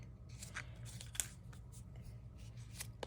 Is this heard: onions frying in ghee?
no